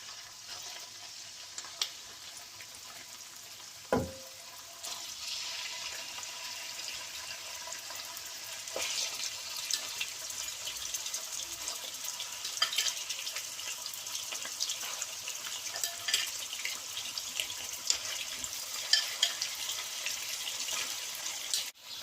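Mutton browning in oil and butter in a pot, a broad continuous sizzle that swells after a sharp clank near the start and keeps crackling steadily with small pops, close and fairly loud, with no talking.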